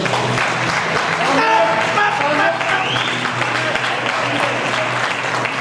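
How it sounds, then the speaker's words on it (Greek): Applause for a weightlifter's second 170 kg squat attempt at a strength competition, steady clapping throughout over a low hum, with an announcer's voice and crowd sounds mixed in. "ένα χειροκρότημα"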